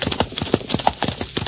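Horse hooves clatter in a quick, regular galloping clip-clop, loud and close, heard alone in a radio drama.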